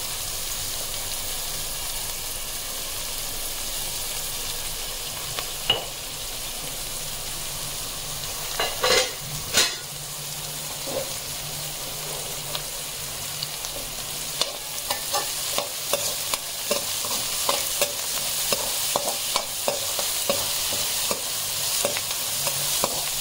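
Salted okra frying in a pan for dhaba-style bhindi masala, with a steady soft sizzle throughout and scattered scraping, tapping stir strokes that grow more frequent toward the end.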